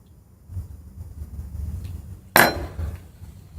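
A Kamikoto knife cuts with one sharp crisp impact on a board, loud and close, over a low background rumble, followed by brief fading clatter.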